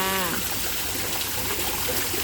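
Waterfall at Moo Ngoen Lan, a steady close rush of falling water heard alone with a continuous splashing hiss throughout.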